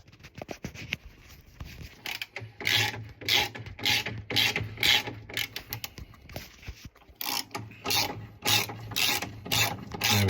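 A screw is driven in on the carbon brush of a Hoover Dynamic Next washing machine motor, a run of quick ratcheting clicks and scraping turns in repeated bursts with short pauses, close and alone.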